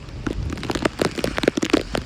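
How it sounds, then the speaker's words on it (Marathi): Heavy rain on the Panhala to Pavankhind trek, pattering steadily with dense, irregular drops striking a nearby surface, no voices present. "पाऊस कंपल्सरी पडतोय जोराने"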